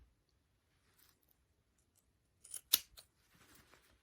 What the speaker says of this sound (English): I need to grab some scissors. Cut off these corners.